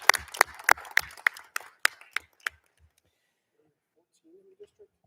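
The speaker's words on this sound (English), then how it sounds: "So if we could give them a round of applause, please." An audience at a school district board of education meeting gives a short round of applause for assistant principals, with sharp separate claps that thin out and stop, followed by quiet and a faint voice.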